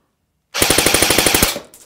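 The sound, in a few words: Echo 1 Red Star AK47 airsoft rifle firing full auto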